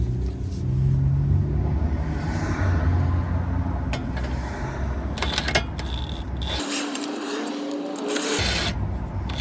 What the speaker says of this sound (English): I'm going to use my impact gun with the 21 millimeter socket on the end